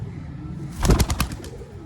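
A domestic pigeon coos in a short rippling burst of pulses close by, over a steady low background hum, with no voices.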